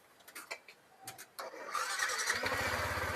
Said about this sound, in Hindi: स्टार्ट करके भाइयों को दिखा देते हैं